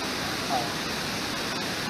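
Steady broadband rush of a waterfall at a wildlife bear viewing site, a continuous even roar filling the short stretch with no distinct events.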